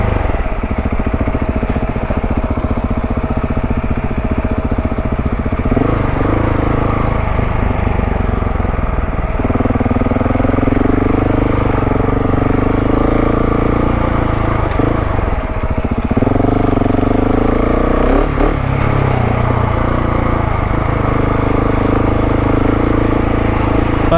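A KTM 690 Enduro R motorcycle is ridden off-road in first gear on a mountain trail, its single-cylinder engine a loud, steady close-up drone with occasional swells of throttle.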